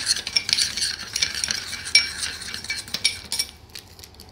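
Quick light clinks and scrapes of a small utensil stirring a homemade lip mixture in a small bowl, a busy rhythm of close tapping against the sides.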